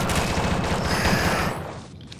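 Rapid gunfire from the zombie shooter Dead Horde, a dense burst of fast repeated shots that stops abruptly near the end, loud and close.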